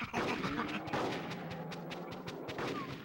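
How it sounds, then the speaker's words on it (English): Sustained assault rifle fire in the video game Conker's Bad Fur Day, dense overlapping shots and blasts rolling continuously and loudly across the whole span with no talk. "That's the assault rifle."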